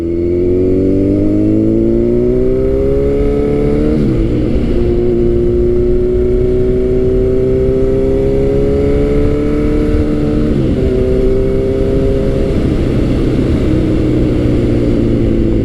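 A Kawasaki Z900 motorcycle fitted with a loud aftermarket exhaust revs up and down in steady, sustained pulls. Its droning engine tone rises and falls throughout, close and loud.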